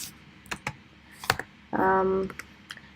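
Scattered clicks on a computer keyboard, close and crisp, with a brief hum-like tone sounding in the middle.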